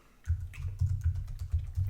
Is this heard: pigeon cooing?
no